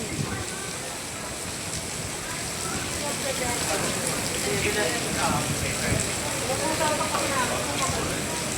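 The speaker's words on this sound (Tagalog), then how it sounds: "grabe ang lakas ng ulan" Heavy rain pours steadily in a dense, hissing wash that stays constant and moderately loud throughout, with no clear voices over it.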